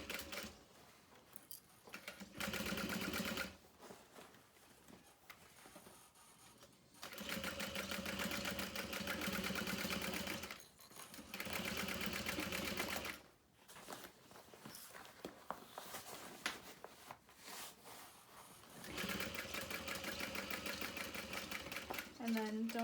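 A sewing machine stitches leather with a scrap piece underneath, running in several loud, steady bursts separated by short pauses, close up with some faint handling noise between runs.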